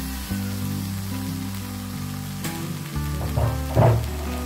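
Beef torpedo is dropped into a hot wok for an Indonesian ungkep dish, giving a close, crackling sizzle over a low steady hum that swells into louder spitting bursts near the end, without any talk.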